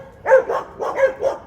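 Several dogs bark outdoors on a walk, with five quick, loud barks in two clusters at moderate distance and no talking over them.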